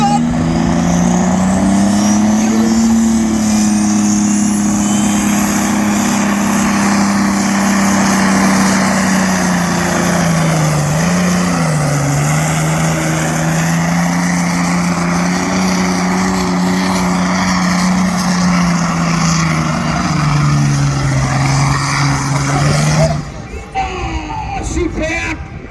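Tractor pull at Brechin, Scotland: a loud, sustained engine roar from a competing pulling tractor, pitch rising and dipping as it strains down the track, with crowd noise underneath, cutting off sharply near the end.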